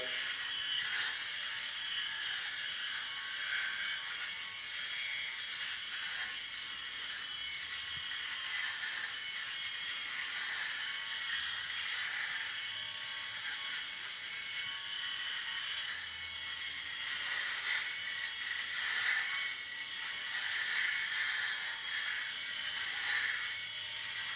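A Philips S5150/26 electric shaver buzzes across a face in circular motions, a steady, close, high whirring hum with slight rhythmic swells as it moves, running continuously for over twenty seconds without talk.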